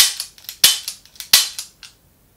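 A gas blowback pistol fires several sharp, snappy shots in a quick irregular sequence, and the slide cycles with each one. The cracks are loud and close, with quick decays and nothing else heard.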